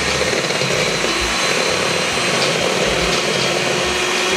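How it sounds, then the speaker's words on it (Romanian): Electric hand mixer beating cake batter at low speed for a marbled sponge cake, a steady continuous motor whir with a broad noisy hum, close and alone without talk. "Deci oprești mixerul, da."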